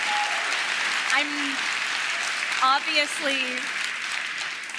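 Audience applause at a live book show fills the whole stretch as a steady broadband patter, with someone talking over it briefly.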